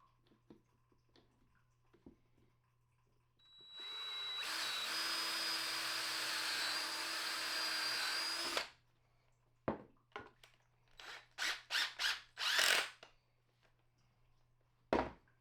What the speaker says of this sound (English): and then pre-drill and screw it.